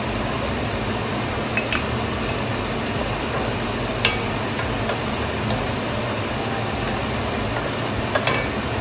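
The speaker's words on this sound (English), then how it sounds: "I'm going to sweat the onions and the carrot" Onions and carrot sweating in a pan as a base for oil down, a steady close sizzle and crackle with occasional stirring clicks and scrapes, alone with no talking.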